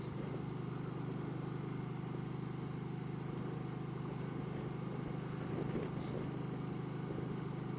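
Car driving near the University of Alberta, heard from inside the cabin as a steady, low, quiet road and engine hum with no talking.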